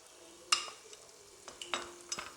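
Egg curry masala with yogurt being stirred in a pan over low flame, with a few sharp utensil scrapes against a steady soft sizzle.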